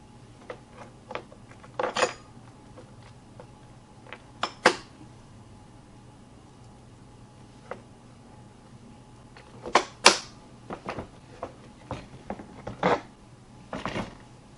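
Nuts being tightened on a Gorilla Carts hand cart give sparse, sharp metallic clicks and ratcheting taps, some in quick clusters, with quiet gaps between them.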